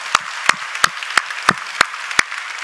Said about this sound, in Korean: 우리 감사의 박수를 한번 드리겠습니다